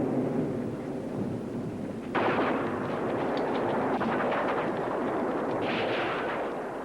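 A massive World War I artillery bombardment at Verdun in February 1916, hundreds of cannons firing. It comes across as a continuous rumbling roar that swells sharply partway through, with overlapping distant booms.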